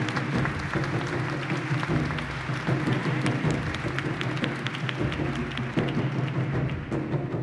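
An audience at a formal ceremonial session applauds continuously, a dense wash of many hands clapping at once, steady and moderately loud throughout.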